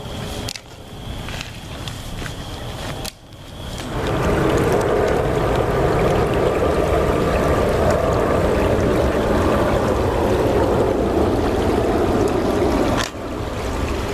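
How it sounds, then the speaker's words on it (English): A babbling brook at twilight gives a steady, loud rush and trickle of flowing water, close by, swelling after a few seconds of quieter outdoor ambience with brief handling bumps. "We're at a babbling brook right now"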